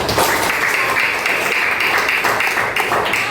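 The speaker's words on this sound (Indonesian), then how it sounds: "Tepuk tangan" A classroom of students breaks into steady applause, dense and fairly loud, with many hands clapping at once for the full stretch and no pause.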